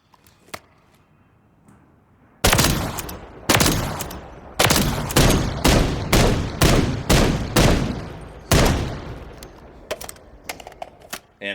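Loud, beefy rifle shots from the SVCH in Call of Duty: Modern Warfare III, fired in a rapid string of about ten heavy, evenly spaced bursts, with faint clicks and handling noise before and after.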